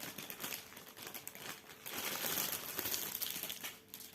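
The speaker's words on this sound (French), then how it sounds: "je vais la déballer, je mets sur le côté pour le bruit" Cross-stitch kit packaging being unwrapped up close, a quiet continuous crinkling and rustling of wrapping that swells slightly midway, with no voices.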